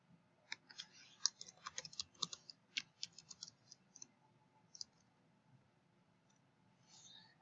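Quiet, close clicking of keys being typed on a computer keyboard comes in irregular quick bursts, then thins out to a few scattered taps and faint background hum.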